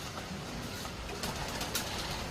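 A racing pigeon cooing softly, low murmuring coos close by, over a steady background of noise with faint rustling.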